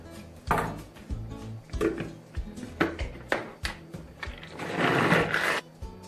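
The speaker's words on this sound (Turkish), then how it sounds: "Portakallarınızı böyle parçalayın ve mutfak robotunuzla güzelce çekin." Food processor pureeing chunks of orange in a home kitchen, heard as repeated short mechanical bursts and clattering pulses with a longer, louder whirring run near the end, close and without talk.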